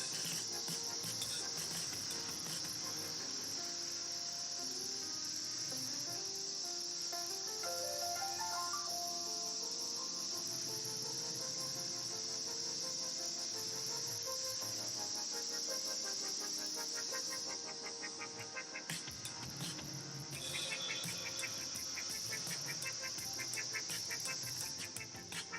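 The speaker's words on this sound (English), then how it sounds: "Hear those cicadas coming back there again." Cicadas in Australian bush near Yalwal, a loud, continuous high-pitched insect drone lasting throughout with a brief dip near the end, with faint bird calls and vehicle rumble beneath.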